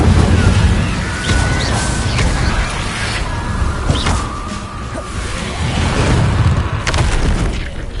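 The Incendio fire spell in Hogwarts Legacy gameplay gives a loud, dense roaring blast with booming whooshes and crashing impacts that sustain throughout, and occasional tonal sweeps run through it.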